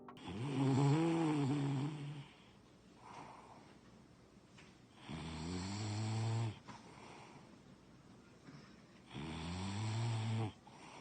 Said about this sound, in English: you'll be able to hear him snoring right now in the background